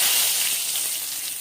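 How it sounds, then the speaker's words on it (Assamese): Bay leaves dropped into hot oil in a wok while cooking Assamese-style mutton curry, giving a loud, close, continuous hissing sizzle that eases slightly over its brief length. "এতিয়া কেৰাহী গৰম হৈ গ'ল তাই দিছে তেজপাত"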